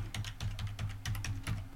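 Quick, steady keystrokes on a computer keyboard as a password is typed, a close run of crisp clicks with no talking.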